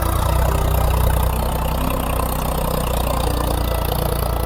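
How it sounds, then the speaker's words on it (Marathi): A farm tractor carrying fertilizer runs with a steady, rumbling engine idle, a loud low throbbing drone that continues without pause throughout. "खत घेऊन आलेला आहे ट्रॅक्टर"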